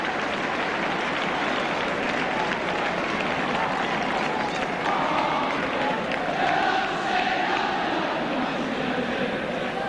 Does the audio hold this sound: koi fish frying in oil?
no